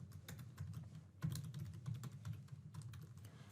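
Rapid keystrokes on a computer keyboard as an email address is typed in, a steady run of close, light clicks at an even pace with no talking.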